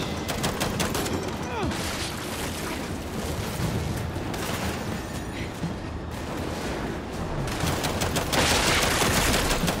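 Gears 5 video game gunfire, with rapid automatic bursts and heavy shots crackling continuously over a dense battle soundscape while a player talks at points.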